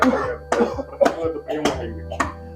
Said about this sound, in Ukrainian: кашляє